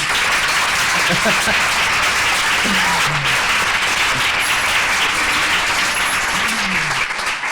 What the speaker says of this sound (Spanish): lo primero que os pediría es otro aplauso